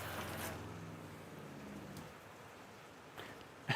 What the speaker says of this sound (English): If it wasn't pouring down rain, you could probably hear the water pump.